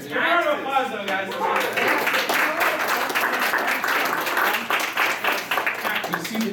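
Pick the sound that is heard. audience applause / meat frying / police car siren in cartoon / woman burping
audience applause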